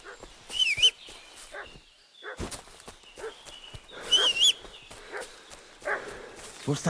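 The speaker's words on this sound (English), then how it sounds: "What's that dog making such a fuss about?" A dog barks and whimpers in a role-playing video game, making a fuss in short repeated bursts at moderate distance, mixed with other game sounds and a talking voice.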